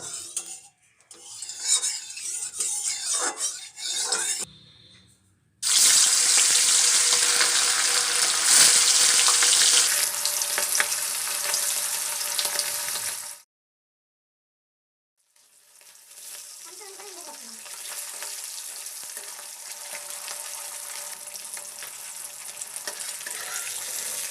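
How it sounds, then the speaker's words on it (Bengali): Fish pieces fry in hot mustard oil in a wok, a loud dense sizzle that swells when pieces drop in, cuts out briefly twice, then returns at a softer steady hiss. "একে একে সমস্ত মাছগুলো আমি এইভাবে হালকা করে ভেজে নিচ্ছি।"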